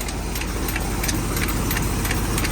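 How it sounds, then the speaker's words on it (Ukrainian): A Lamborghini tractor runs steadily, driving a sprayer pump that feeds a roughly 400-litre tank for treating potatoes and grapes against pests. The engine's continuous, even drone is loud and close throughout, with no talk over it. "Трактор насос качає."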